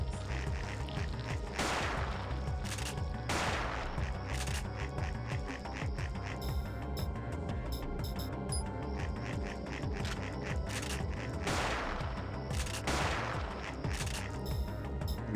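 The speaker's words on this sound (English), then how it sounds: "Let me get my shotgun going. Shotgun." Shotgun blasts in the survival horror game Parasite Eve 2, a few heavy booming shots spaced several seconds apart over a steady mechanical game soundtrack, with no talking.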